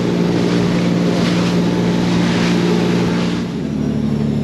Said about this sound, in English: Look at the tide screaming up the back of that.